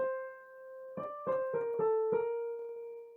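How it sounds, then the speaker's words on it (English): A short melodic phrase of sustained tones stepping downward in a repeating pattern, played alone at moderate volume. "So here's our example of a descending melodic sequence."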